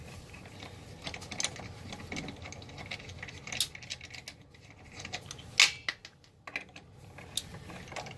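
Hand tools loosening and removing lug nuts from a 2008 Jeep Patriot wheel, quiet irregular ratcheting clicks and small metallic taps, close and soft throughout.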